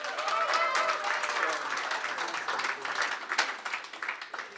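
Applause from the audience at a swimming club awards evening honouring sea swims over 10 km, a warm sustained round of many hands clapping with some cheering voices in the room.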